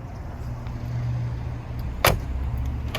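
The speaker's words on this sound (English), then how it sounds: "He's in his new G-Wagon G63 AMG." A Mercedes G-Wagon G63 AMG pulls up, its engine humming low and steady, followed by a sharp short clunk like a door or latch.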